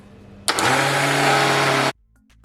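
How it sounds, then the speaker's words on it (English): A kitchen blender whirring through pumpkin punch, starting abruptly, holding a loud steady motor whine for about a second and a half, then cutting off sharply into near silence. "turn on my blender"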